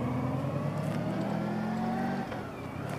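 A Jaguar E-Type's engine runs nearby with a steady, throaty drone that holds loud and even, then eases slightly near the end.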